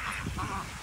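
A duck quacks in a short, raspy burst, fairly close, over a steady background murmur.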